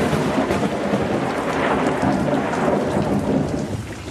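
Heavy rain pours steadily while deep thunder rumbles throughout, loud and close, with no voices.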